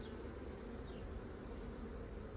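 Honey bees buzz steadily around an opened hive in late winter, a dense continuous hum close by and fairly quiet, with no talking.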